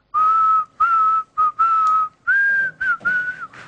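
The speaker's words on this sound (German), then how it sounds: "Stattdessen wollte er gerade den Einmarsch einer Hochzeit pfeifen" A single person whistles a stately wedding march melody, clear and close, in several sustained phrases separated by short breaths.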